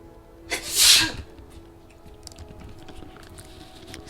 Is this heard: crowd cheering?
no